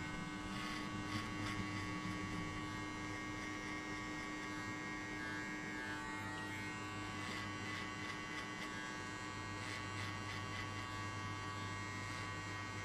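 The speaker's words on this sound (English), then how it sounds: "I will shave everything off below the guideline." Electric hair clippers buzz steadily and close up through a buzz cut, shaving the hair below the guideline with an even, unbroken motor hum that stays level from start to finish.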